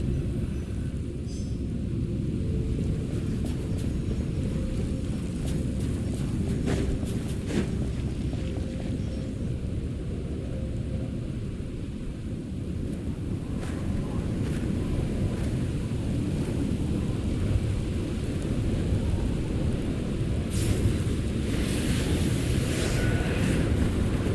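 A fierce storm in the video game Genshin Impact, with steady howling wind and rain-like roar under rumbling thunder. The texture stays dense and loud throughout, with sharper crackling bursts near the end.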